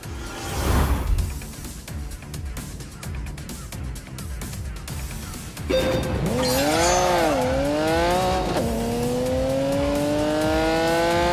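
Racing cars lap the Eboladrome test track in a Grand Tour driving game. A steady engine drone builds into loud, rising and falling engine whine from midway on, continuous and close, with no talk.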